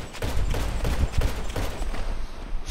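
Rapid volleys of gunshots in a GTA match, a dense cluster of loud cracks packed close together for a couple of seconds over a rumbling game background.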